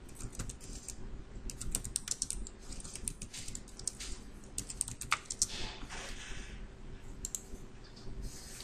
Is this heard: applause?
no